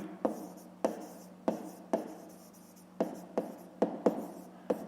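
A math solution is written by hand, producing a series of about nine quiet, close pen or pencil taps and scratches against paper at an uneven rhythm.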